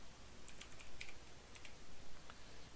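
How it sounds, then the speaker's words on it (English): Someone types a short command on a computer keyboard to launch an old DOS game, a handful of quick, light key clicks in an uneven burst over a quiet room background. "basically we're just typing War2 to run it"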